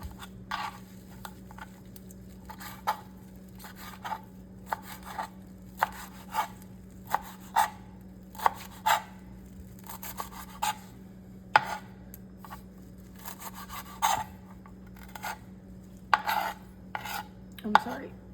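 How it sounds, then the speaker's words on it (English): A knife chops cilantro stems on a cutting board in a steady series of crisp, close taps, roughly twenty distinct cuts spread over eighteen seconds with a faint background hum and no talking. "So I will cut off a good amount of stems like that"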